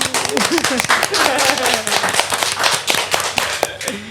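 Scattered audience hand claps at a talk about handmade boots crackle through the clip, starting under a brief bit of talk and continuing as sharp, uneven taps.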